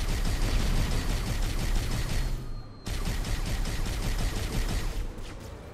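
Rapid automatic gunfire in Halo: Combat Evolved crackles in dense, loud bursts, breaking for a brief pause before the shooting resumes and carries on.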